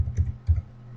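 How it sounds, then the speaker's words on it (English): Close, soft clicks of a computer keyboard as a web address is typed, with a few quick keystrokes in a short burst. "we'll type in a web address"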